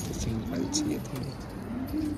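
Green pigeons coo in soft, rolling low phrases under nearby talking voices.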